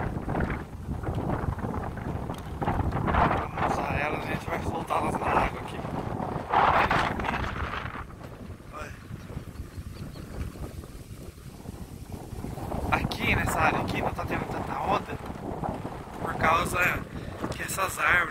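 Strong wind sweeps across open water during an August fishing trip, a continuous gusty roar buffeting the microphone, with surges of stronger rushing noise and a low boat-like rumble throughout.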